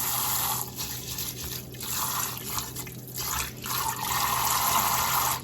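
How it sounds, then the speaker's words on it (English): Water being poured and swirled while rinsing rice in a kitchen, a steady close trickle and splash with surges as the bowl is refilled and tipped, no voices. "Pour out the water, add new water, do it a few times until the water clears."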